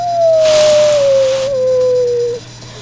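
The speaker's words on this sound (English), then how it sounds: "Sounds like a coyote." A single long, clear howl from a coyote, a smooth falling tone held for about two and a half seconds against a steady background of crickets at night.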